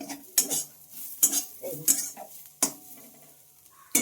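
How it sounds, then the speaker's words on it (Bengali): A spoon clatters and scrapes against a pan while a carrot chop filling is stirred, with sharp metallic clinks repeating every half second or so and soft scraping in between, close and fairly loud. "একটু বারবার নেড়ে চেড়ে নেড়ে চেড়ে এটাকে ঠিকঠাক করে রেডি করে নিতে হবে"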